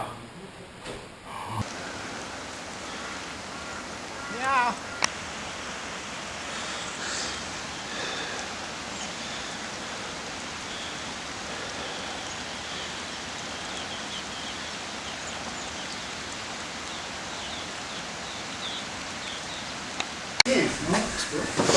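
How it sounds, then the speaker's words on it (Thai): Steady hiss of falling rain fills the scene, constant and moderately loud, with a few brief knocks and rustles. "ฝนตกด้วย"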